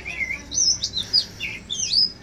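A kept oriental magpie-robin, or kacer, sings close and loud, with a run of bright whistled phrases and quick chirps repeated in an uneven rhythm over quiet background hiss.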